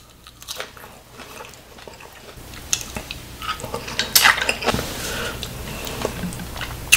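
Someone eating grilled Khmer lemongrass beef skewers with pickled vegetables, with close crunchy bites, chewing and cutlery clinks on a plate, growing busier toward the end, no talk.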